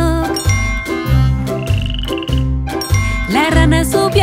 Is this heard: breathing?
no